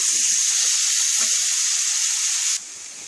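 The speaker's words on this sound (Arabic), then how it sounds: "نخليوها تتشحر مزيان" Onion and chicken fry in a pan, giving off a steady loud sizzle with a couple of soft stirring scrapes before the hiss suddenly drops to a quieter level.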